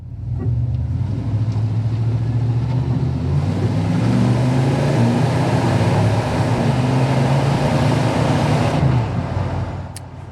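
A deep, rumbling V8 engine of a 1990 Chevrolet 454 SS truck with stock exhaust idles loudly nearby, rising slightly in pitch mid-way before settling, then cutting off near the end.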